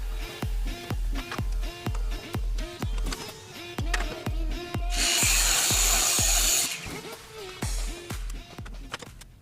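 An Einhell TE-SM 18/210 Li cordless 18V miter saw cuts a wooden batten with a loud, close whirring buzz. A sustained cutting stretch is framed by rapid rhythmic mechanical pulses from the running motor.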